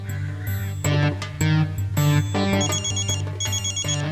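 A loud electronic ringtone plays a bright repeating melody close by, steady for several seconds with no talking.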